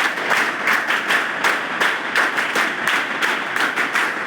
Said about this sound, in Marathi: तुमचे शिक्षक, त्यांच्यासाठी टाळ्या वाजवा